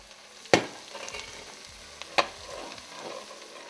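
Potatoes frying in a pan, a steady close sizzle with a couple of sharp stirring clatters from a utensil and the pan.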